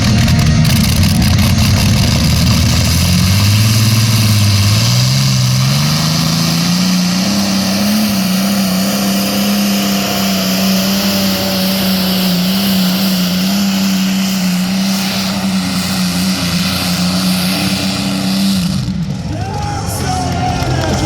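An Allison aircraft engine powers a pulling tractor at a truck and tractor pull event. Its loud, sustained drone rises in pitch early on, then holds a steady high whine until it drops off near the end.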